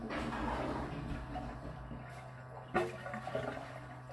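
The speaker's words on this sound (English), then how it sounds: "Go ahead and flush that toilet." A toilet flushes close by with a steady rushing of water through the bowl, then a gurgling surge as the tank empties near the end.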